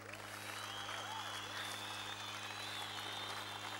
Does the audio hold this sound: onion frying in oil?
no